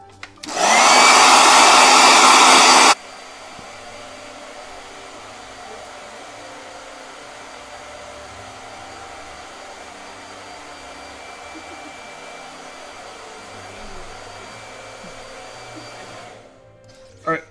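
A blow dryer switches on and roars loudly and steadily for about two and a half seconds, then cuts off, leaving a long stretch of faint room hum.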